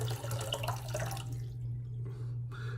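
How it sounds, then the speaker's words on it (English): Hot water splashes and trickles as it is poured from a shaving scuttle, a steady liquid pour that fades out partway through, with a low steady hum underneath. "so just poured some of the water out"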